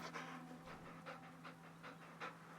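A puppy in the video game Moonglow Bay pants quietly in quick, steady breaths over a faint, constant background hum.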